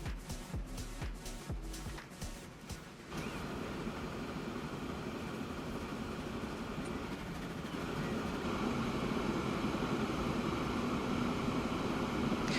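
A coal and wheat freight train runs in Transport Fever 2: a sharp clicking rhythm at first, then a continuous rolling rumble that grows slightly louder toward the end, with no voices.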